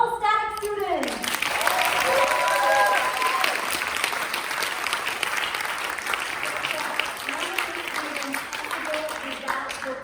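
Audience applause at a student projects finale event, sustained and fairly loud for about nine seconds after a brief voice at the start, with scattered cheers mixed into the clapping.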